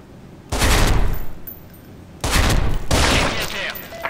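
AUG A3 rifle fire in the shooter game Special Force 2, three loud bursts of rapid automatic shots, close and harsh, separated by brief quieter gaps.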